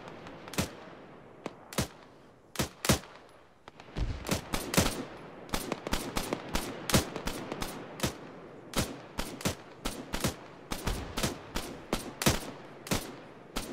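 L1A1 rifle gunfire in Arma: sharp, loud single shots, widely spaced at first, then a quicker uneven string of cracks. Some are near and some farther off, against near silence.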